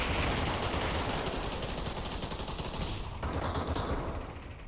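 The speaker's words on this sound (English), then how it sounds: "Lauren taking a couple shots with that AK." Sustained automatic AK rifle fire in the VR shooter Population: ONE, a dense rapid rattle of shots running almost the whole time at steady loudness, with a brief break near the end and no talk.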